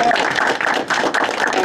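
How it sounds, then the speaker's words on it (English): An audience claps steadily at the awards of a startup pitch competition demo day, a dense, continuous patter of applause throughout. "Big clap for everybody."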